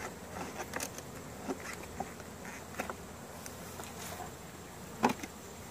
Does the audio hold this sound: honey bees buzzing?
yes